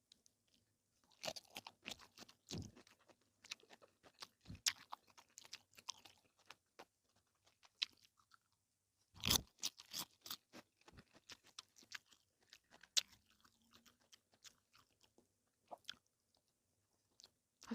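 Crunchy kimchi chewed during a Filipino breakfast mukbang, with irregular close crisp crunches and bites in bursts, quiet gaps between them and no talking.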